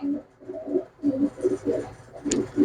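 Pigeons coo repeatedly in a steady, rhythmic series of low, throaty pulses, near and fairly loud, with almost no other sound.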